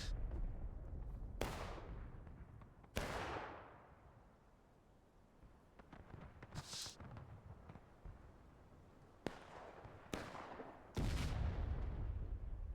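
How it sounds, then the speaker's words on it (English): Artillery shells exploding in the War of Rights game set in the War of Secession: several sharp, loud blasts at irregular intervals, with rumbling tails between them and a near, heavy final burst. "Oh, the artillery shell hit the flag"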